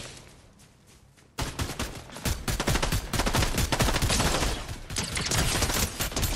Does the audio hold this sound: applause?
no